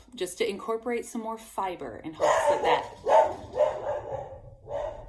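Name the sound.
dog barking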